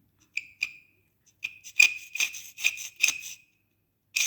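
Old tile grout is scraped out of the joints by hand before regrouting, making a series of close, dry, rasping scrape strokes in short irregular bursts with brief pauses and no talking.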